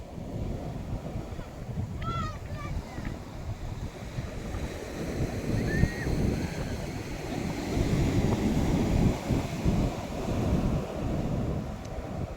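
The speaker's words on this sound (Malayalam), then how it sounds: "അവിടുന്ന് വരണത് നല്ല വലിയ തിരമാലയാണ്." Large sea waves breaking on shore in strong wind, a continuous rumbling roar with gusty buffeting, and a couple of faint bird calls over the surf.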